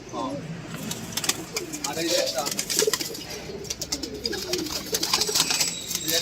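Racing pigeons coo at a home loft, several soft, rolling calls close by, mixed with scattered clicks and shuffling, with faint human voices in the background.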